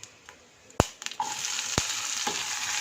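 Shallots sizzle and crackle in hot oil, with sharp clinks of a spoon against the pan before the frying hiss settles into a steady wash.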